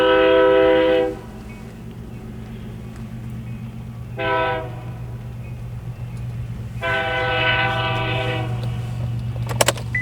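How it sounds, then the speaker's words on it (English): Train passing along an Oregon country road sounds its horn in three blasts, a long one, a short one and another long one, over a steady low rumble of the moving cars, fairly distant and without talk. "Oh, here comes a train."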